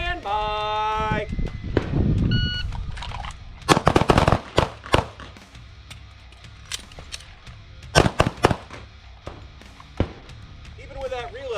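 Sharp pistol shots crack out in irregular bursts during a defensive shooting drill at an outdoor range, some in quick pairs and doubles, loud and close, with a brief pause for a reload and an instructor's voice speaking in between.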